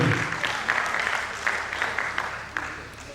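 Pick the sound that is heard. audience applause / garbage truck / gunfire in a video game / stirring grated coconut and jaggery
audience applause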